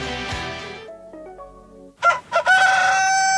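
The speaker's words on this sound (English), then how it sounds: "That rooster's been crowing all morning." A rooster crows loudly and close, a drawn-out cock-a-doodle-doo in a radio ad, preceded by a brief musical jingle and a short pause before the call.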